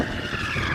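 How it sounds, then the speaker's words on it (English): A BMW in 2-wheel drive mode skids its tyres, giving a short, loud, continuous squeal with engine roar close by. "Then you can do some skids."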